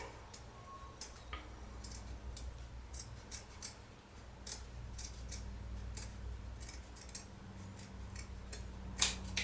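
Scissors snip bathroom carpet to fit, a string of faint, close, irregular crisp cuts over a quiet background, with no talking.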